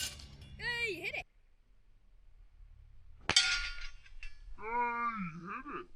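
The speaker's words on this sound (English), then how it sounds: "We're going to have a little go on some air guns." Outdoors at a farm, an air gun pellet strikes a metal target with one sharp, ringing clang. Voices talk before and after the hit.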